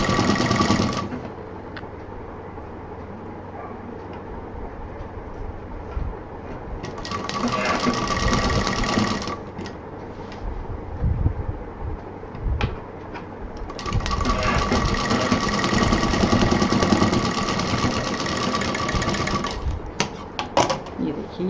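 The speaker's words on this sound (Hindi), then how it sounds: "तो इस तरह से इसका बॉटम सिल दें।" A sewing machine stitches the bottom of a tote bag in bursts of rapid, even mechanical whirring, close and clear, with pauses between runs where someone talks quietly.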